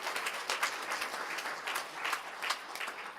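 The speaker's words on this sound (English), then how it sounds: "So give yourselves a round of applause." Congregation at a Sunday church service breaking into dense, sustained applause, a steady wash of many hands clapping at fairly close range for a few seconds.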